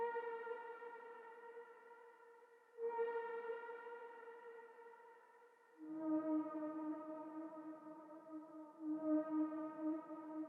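A lo-fi synth lead plays in FL Studio, built to blend with flute and violins. It gives clean sustained tones in four held notes, each shift in pitch marked by a clear step, with no talking.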